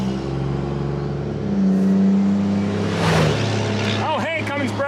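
A Cummins diesel truck with dual S400 compound turbos revs hard, a loud throaty drone swelling twice with turbo whistle and sweeping tones near the end, a voice talking over it.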